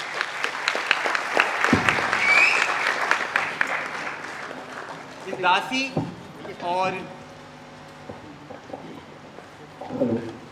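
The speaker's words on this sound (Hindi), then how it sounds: "प्रीति सिंह जी के लिए जोरदार ताली" Audience applause for a ballet performer at a staged dance-drama about Rani Durgawati, a dense burst of clapping for about five seconds that fades out, followed by someone speaking over the hall's PA.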